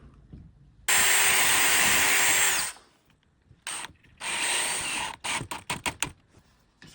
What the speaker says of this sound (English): Drill the hole as well.